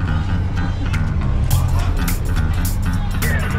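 A Unimog truck on a leisurely drive, its engine giving a steady low rumble with repeated sharp knocks and rattles from the vehicle body, heard close under some talking.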